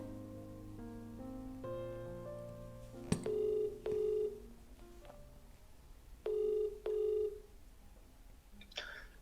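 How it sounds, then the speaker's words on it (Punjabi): A telephone call is being placed, with short dialing tones followed by repeated ringback bursts; the tones come in evenly spaced pairs over a faint background. "ਮੰਮੀ ਕਪਲ ਨੂੰ ਫੋਨ ਤੇ ਲਾਵਾਂ"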